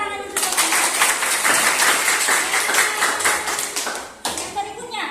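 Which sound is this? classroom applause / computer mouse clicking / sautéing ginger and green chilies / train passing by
classroom applause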